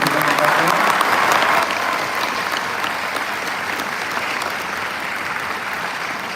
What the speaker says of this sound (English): So can we give a big round of applause for Damian for filling in piano back there?